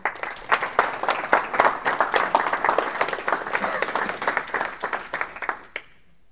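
A live audience applauds after a talk on JavaScript, a dense burst of many hands clapping that fades out near the end, with a few scattered voices underneath.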